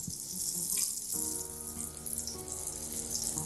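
Algerian cigar pastries fry in a shallow amount of hot oil, giving a steady, close sizzle and bubbling hiss that runs the whole time with no talking.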